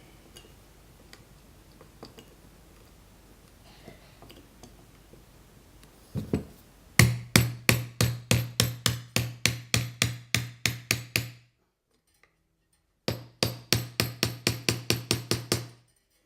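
A nail is hammered into wood while mounting a slide guitar, with a rapid series of sharp, evenly spaced strikes, a brief pause, then another quick burst of blows, close and loud.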